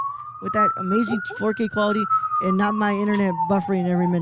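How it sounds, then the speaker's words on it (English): Police sirens wail outside in a steady rising and falling tone, passing behind a conversation that continues in the foreground throughout. "Sorry for the sirens."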